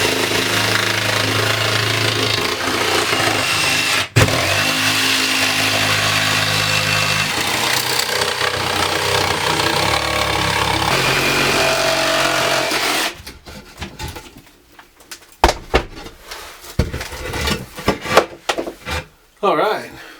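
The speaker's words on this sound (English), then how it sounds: "this little jigsaw is pretty loud" Small jigsaw cutting inside an enclosed space on an overland trailer, a loud, buzzing, continuous cut for about thirteen seconds, followed by quieter knocks and handling noises.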